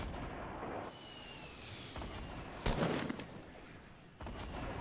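A single gunshot cracks out sharply in the Fortnite Battle Royale video game, a short, fairly faint burst standing out against a quiet background.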